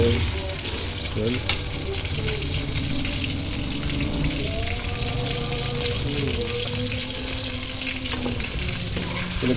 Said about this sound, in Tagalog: Yung pinagpirtuhan ko ng tilapia, dito ko na rin pinirito.